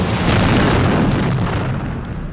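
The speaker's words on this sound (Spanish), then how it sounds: "Los gases en expansión y el agua hirviendo bajo la superficie producen un calor excesivo que hace explosión." A volcanic eruption explosion roars as a loud, continuous deep rumble with dense broadband blast noise that holds steady for a couple of seconds and slowly eases.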